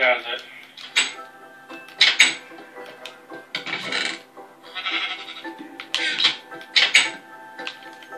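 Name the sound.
sheep bleating in Minecraft video game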